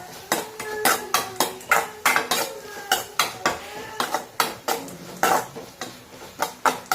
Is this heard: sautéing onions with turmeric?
yes